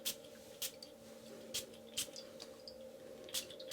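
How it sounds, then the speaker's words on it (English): Several short, sharp spray bursts hiss out at uneven intervals over a steady low hum, close and fairly quiet. "I'm just going to take this stuff and just freaking spray it"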